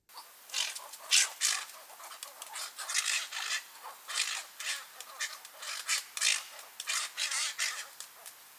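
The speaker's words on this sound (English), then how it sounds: "This was the cattle egret" Cattle egrets in the Netherlands giving a series of rough, croaking calls in irregular bursts, fairly close with quiet gaps between.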